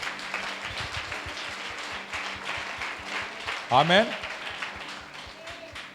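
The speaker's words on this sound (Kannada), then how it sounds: "ಚಪ್ಪಾಳೆ ಹೊಡೆಯಿರಿ ಸ್ವಾಮಿ." Church congregation clapping hands during a sermon, a rhythmic, steady run of claps from a group under a preacher's voice, with a brief louder vocal burst partway through.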